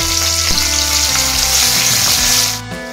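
Chopped green chillies with turmeric frying in hot oil for pesarapappu charu, a loud continuous crackling sizzle with a few stirring knocks, close up, easing off slightly at the end, no talking.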